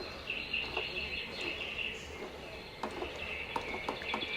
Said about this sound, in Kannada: ಇಲ್ಲಿ ಬರ್ಡ್ ಸೌಂಡ್ ಬರುತ್ತೆ.